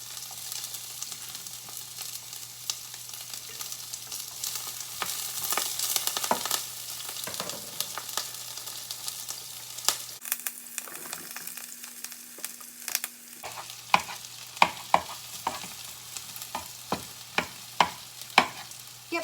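Mushrooms fry in a pan with steady sizzling, while a utensil scrapes and clicks against it in irregular close strokes throughout; no one speaks.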